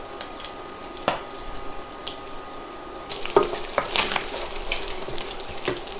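Bacon crisps in a pan, a steady close sizzle and crackle with sharper pops and spatters growing busier in the second half.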